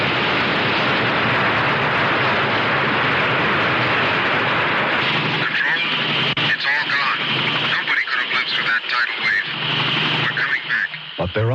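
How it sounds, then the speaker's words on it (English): A roaring tidal wave effect from a radio drama about a tsunami set off by a distant nuclear explosion, a dense sustained rushing roar that fills the clip, later broken by someone speaking over the surge. "a nuclear explosion thousands of miles away created tsunami, a killer tidal wave now roaring across the Pacific toward Phoenix Island."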